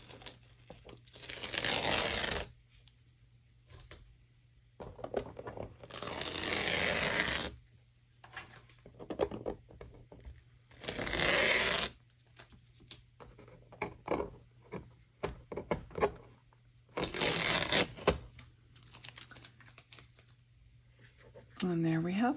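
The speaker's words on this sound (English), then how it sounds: "Let's peel back the tape and have a look." Tape peeled off a watercolor Christmas card painted with snowmen in a winter forest, heard as several loud ripping strips lasting about two seconds each, separated by pauses with quieter rustling and handling.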